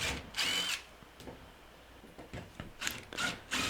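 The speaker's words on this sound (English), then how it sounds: "couldn't think of any other way to cut out this little section that I needed for the top of the platform other than the drill bit I had" A drill bit cuts out a small section of a wooden platform top for a Toyota overland build, heard as several separate bursts of high, whining drilling with short pauses between them.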